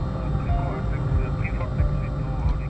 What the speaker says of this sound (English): Even at low altitude, the MiG-15 flies close to the sound barrier, as Roman demonstrates with this maneuver